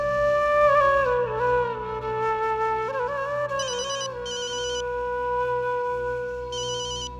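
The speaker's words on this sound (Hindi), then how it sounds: "तेरे मैनेजर का फोन है" A telephone ringing indoors in a domestic setting, with repeated bursts of an electronic ring tone sounding over a steady bed of background music.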